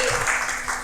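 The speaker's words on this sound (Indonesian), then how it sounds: "Tepuk tangan dong lagi." Brief burst of audience applause at a mental health talk, a short dense wash of many hands that fades quickly.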